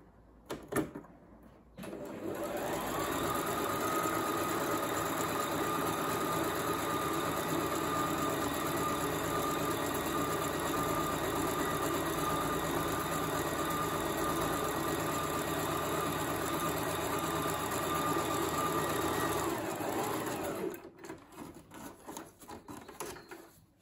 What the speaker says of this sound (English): First sew is fairly easy.